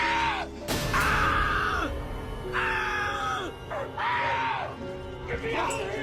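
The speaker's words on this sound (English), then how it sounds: "The next second, screams erupted." A fugitive trapped in a tree hollow screams in several loud, strained, drawn-out bursts separated by short gaps. The voice is close and raw, and rough breathy sounds fill the pauses.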